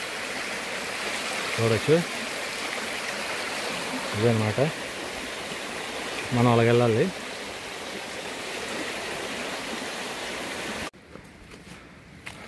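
A pure mountain stream on a hillside flows in a constant, moderate wash of water, heard beneath someone speaking intermittently, before the sound drops away near the end.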